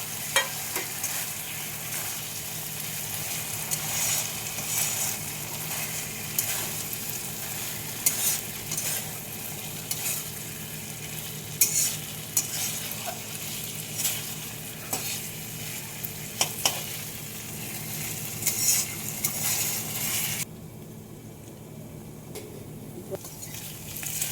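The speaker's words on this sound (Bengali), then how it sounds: "দেখুন এইভাবে মশলা আর আলু কষিয়ে নিতে হবে" Fried potatoes being stir-fried with a spice paste in a pan, a continuous sizzle under repeated scraping and stirring strokes of a spoon, close and fairly even, thinning out near the end.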